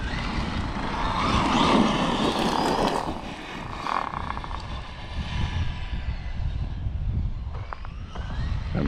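A Traxxas Maxx Slash 6s RC truck drives outdoors, its motor whine rising and falling as it moves away and back, with broad rushing noise and wind throughout at a steady moderate level.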